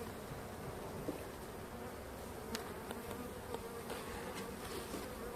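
Anatolian honeybees swarm over an open hive at winter's end, a continuous close buzz with individual bees zipping past now and then.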